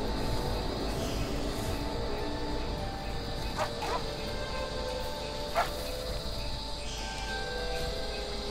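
A dog in the video game Horizon Forbidden West gives a few short, fairly faint barks and yips over steady game ambience and insect-like background noise.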